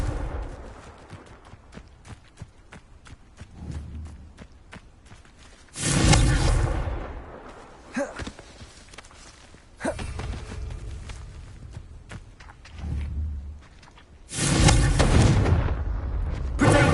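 Repeated Confringo blasting spell explosions in Hogwarts Legacy, three loud fiery bursts a few seconds apart, each roaring and fading, with softer impacts and movement sounds between them.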